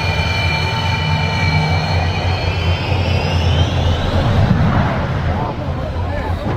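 A jet airliner engine running loudly on a runway near ground staff, a steady roar with a high whine that sweeps in pitch, close and continuous throughout.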